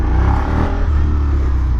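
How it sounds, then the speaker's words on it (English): Suzuki SV 650 motorcycle with a 90-degree V-twin engine running steadily, a loud, close, continuous low rumble with no talk over it. "This is a V-twin."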